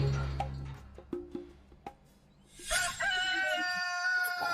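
A rooster crows in the early morning in a remote mountain area. A few soft knocks come first, then one loud, near, drawn-out cock-a-doodle-doo fills the last two seconds.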